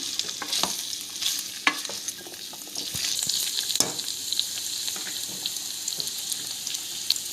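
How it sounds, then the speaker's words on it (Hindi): Green chillies and ginger sizzle gently in a pan over low heat, a steady close hiss broken by occasional stirring scrapes and small pops. "मिर्च और अदरक को इसमें डाल देते हैं और 15 मिनट तक पकाएंगे"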